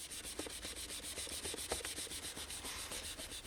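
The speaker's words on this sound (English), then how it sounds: "We're rubbing it in, we can just get rid of some of the paint" A paper towel soaked in white spirit is rubbed back and forth over uncured painted pinstriping, making a steady, rhythmic scrubbing swish, close and fairly quiet, with no talking.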